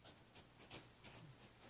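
A pen scratches across a pad of paper in a few short, quiet strokes, soft and close, with small pauses between the marks.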